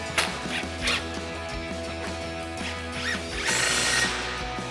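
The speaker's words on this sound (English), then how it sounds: "Now we're going to tighten down our tie rod nut" Power tool driving a 21 mm socket onto a tie rod nut during front lower control arm work on a RAM 1500, with short buzzing bursts, brief pauses and a longer whir near the end, close by.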